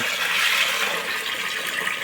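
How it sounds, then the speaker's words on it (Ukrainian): Water pours steadily into a rum still pot for a second distillation, a continuous close rushing splash with no talk over it. "Доливаємо воду в необхідній пропорції."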